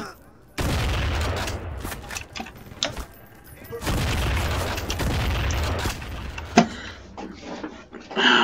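Missile launcher explosions in the video game Bear Party Adventure: a loud sustained barrage of booming blasts and crackling gunfire in two long bursts, then scattered impacts with a sharp bang near the end.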